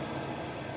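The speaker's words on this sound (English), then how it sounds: "Such a smooth sounding engine." A Nissan Skyline R31 wagon engine idles with a steady, smooth, close hum and a constant broadband fan whir, no revving.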